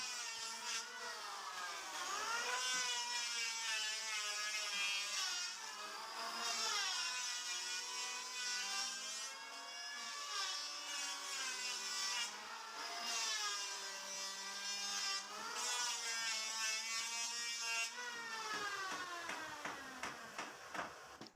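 Hand plane shaving along the corner edge of a wooden piece in a woodworking workshop, a steady rasping scrape repeated in long strokes with short pauses, close and fairly loud throughout, no talk.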